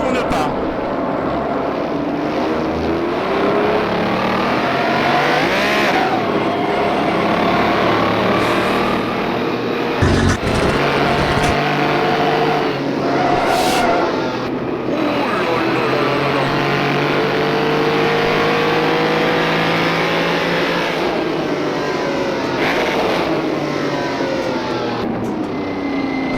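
A 1967 Renault 8 Gordini 1300 in the rFactor 2 racing game, its engine droning and revving continuously at high volume, pitch rising and falling through gear changes, with someone talking over it.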